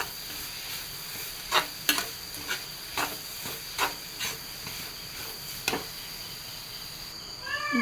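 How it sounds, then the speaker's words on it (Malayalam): Duck egg thoran mixture stirred in a pan on the stove, with a steady background hiss and a string of soft scraping strokes at an uneven pace, close by with no talk. "ഇതൊന്ന് എല്ലാം കൂടി ഒന്ന് മിക്സ് ചെയ്ത് കൊടുക്കാം"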